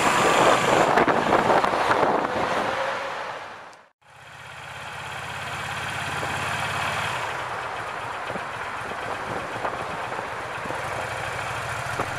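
A Yamaha DS250 motorcycle's air-cooled SOHC two-valve V-twin engine idling with a steady low throb, briefly cut off before resuming at a constant, fairly loud level.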